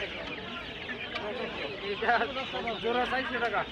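Chickens, about a month and a half old, cluck and chirp busily nearby at a chick shop in a village market in Bangladesh, in a steady, overlapping chatter, with a few sharper peeps standing out.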